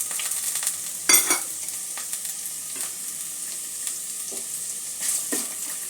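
Chopped carrot frying in tempered oil with a steady close sizzle, broken by a few sharp stirring scrapes and clatters, with no voices.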